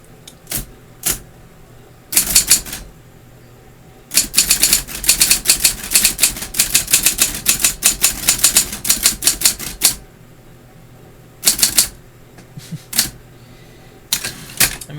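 Keys clattering on a 1980 Sears Scholar electric assist typewriter, close and crisp, in fast bursts of rapid strikes separated by short pauses, with a few isolated single clacks between runs.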